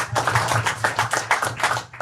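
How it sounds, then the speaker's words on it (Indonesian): A congregation at a church worship service claps together in steady, rhythmic unison for about two seconds, a dense, fairly close patter of many hands. "Kasih tepuk tangan buat Tuhan Yesus."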